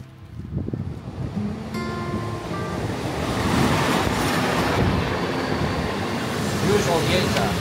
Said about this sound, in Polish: Wsiadamy do pociągu i jedziemy razem.